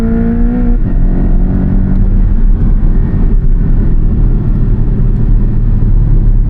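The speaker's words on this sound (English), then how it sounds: "takes a second for that turbo to spool" A Porsche Cayman's turbocharged engine roars loudly and continuously as it accelerates, a deep sustained rumble with no voices over it.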